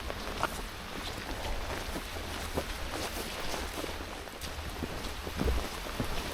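Steady rain pours down outdoors at a waterfront landing in Carrickfergus, a dense continuous hiss with scattered drops and patters throughout.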